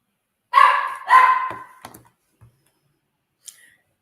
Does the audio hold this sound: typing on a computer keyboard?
no